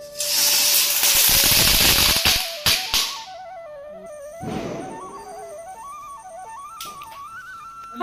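A chakram ground-spinner firework at a Kerala Vishu celebration hisses loudly and continuously for about two seconds with crackling bursts, then fades into quieter background sounds with a few brief pops.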